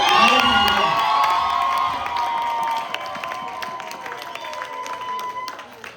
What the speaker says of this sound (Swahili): ningeomba tusimame tupige na makofi na vigelegele